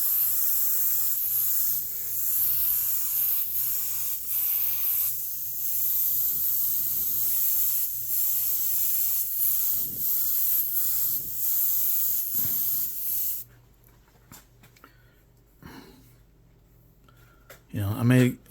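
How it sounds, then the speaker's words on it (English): An airbrush lightly spraying paint onto a t-shirt, a continuous airy hiss that pulses on and off in short bursts, then stops and leaves a quiet room with faint movement. "I'm just lightly spraying this stuff in here."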